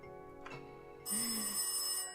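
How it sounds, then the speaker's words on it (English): An old-style telephone in the game Darkside Detective breaks into a loud, bright, continuous electric ringing after a brief quieter lead-in, with no voices. "Oh, get the phone."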